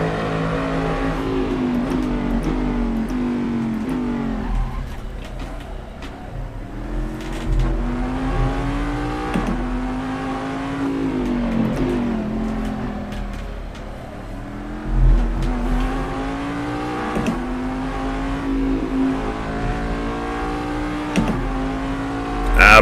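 A Corvette DP race car driving laps in the video game Assetto Corsa, its engine droning and rising in pitch through repeated accelerations and gear shifts, loud and continuous, with no talking.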